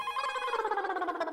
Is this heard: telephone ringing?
yes